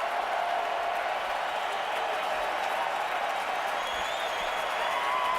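A packed standing-room-only crowd at a 2010 Yankees–Twins playoff baseball game roars in a steady, dense wash of noise that holds at an even level throughout.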